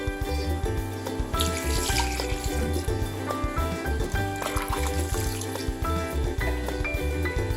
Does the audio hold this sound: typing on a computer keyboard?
no